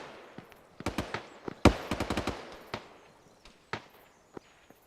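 Gunfire in the military shooter Arma cracks in irregular bursts of sharp shots, some clustered close together and others isolated, over a quiet outdoor woodland background.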